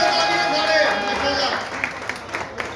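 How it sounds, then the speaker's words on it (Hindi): Audience clapping at an outdoor prize distribution ceremony, a dense steady burst of applause that fades slightly, with voices and crowd noise mixed in. "भरपूर तालियों में इस्तकबाल करना है उस्ताद राना असमत अली कुकू साहब"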